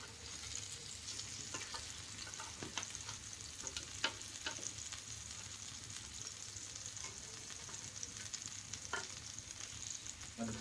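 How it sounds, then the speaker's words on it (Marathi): Chicken fries in a pan over a wood-fired chulha, giving a soft, steady sizzle with faint stirring clicks. "मी कडक विस्तीळ केला आहे त्यामुळं फ्राय होतोय थोडं थोडं"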